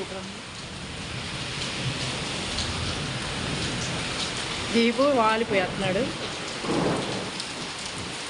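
Heavy rain pours steadily with rumbles of thunder, a dense continuous hiss throughout, while voices speak briefly over it partway through.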